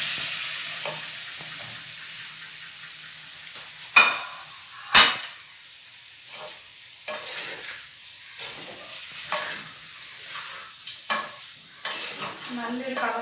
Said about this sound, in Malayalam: ഫ്രൈ ആക്കി വെച്ചിരിക്കുന്ന ചിക്കനും കൂടി ഇട്ടിനകത്തോട്ട് ഒന്ന് മിക്സ് ചെയ്യാം.